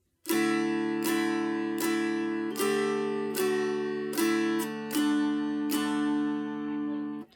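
A mountain dulcimer plays a slow melody of about eight distinct plucked, twangy notes over a steady droning background, ringing clearly and alone.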